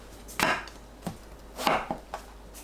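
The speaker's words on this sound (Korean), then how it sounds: "가지는 길이가 5에서 7cm 정도 되도록 3등분하고 반으로 자릅니다" A knife cuts eggplant into pieces on a cutting board, making about five sharp, close chopping knocks at irregular intervals, with quiet pauses between them.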